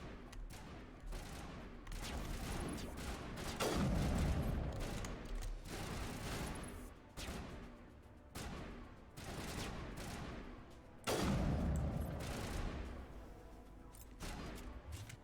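Sustained gunfire from the video game Mass Effect 1, loud bursts of rapid shots and heavy booms in two main volleys with quieter shooting between, no talk over it.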